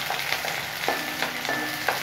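Finely chopped small onions sautéing in a pan for a chicken fry produce a continuous moderate sizzle, broken by a few light stirring scrapes, with no voices.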